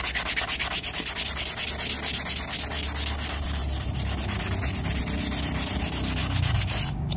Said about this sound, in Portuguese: Pode ver que agora a lixa grossa já tem o poder de soltar mais rápido.